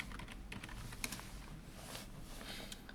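Someone types on a computer keyboard during CAD template work, producing quiet, steady key clicks with a few sharper taps, heard close over a low background hum.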